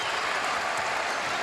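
A basketball arena crowd at a Milwaukee Bucks versus Golden State Warriors game claps and cheers in a dense, loud, unbroken wash of applause.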